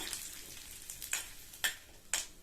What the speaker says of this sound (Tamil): 1 டீஸ்பூன் கடலைப்பருப்பும் 1 டீஸ்பூன் உளுந்தம்பருப்பும் சேர்த்துக்கோங்க.